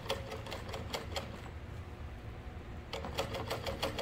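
A sewing machine top-stitches a tote bag in quick rapid bursts of needle clatter, pausing for about a second and a half before running again, close and steady with no talking.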